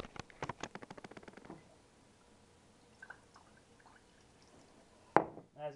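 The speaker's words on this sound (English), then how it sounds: "See, you can see the water's just pooling on the top, not going in really." Water poured onto an AEM cold air intake filter wrap gives a quick run of splashing, pattering drips that fade to near silence, with a faint trickle and a sharp handling sound near the end.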